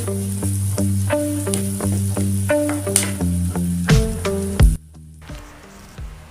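Spices sizzle and crackle in hot tempering oil for a pineapple curry, a close, steady frying hiss with the scrape of a stirring spoon, ending with a sharp burst before quieting.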